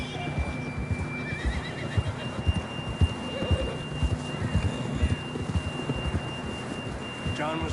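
Horse in a Wild West video game whinnies and neighs several times over steady clip-clopping hooves, with a low rumbling ambience underneath and faint voices at times.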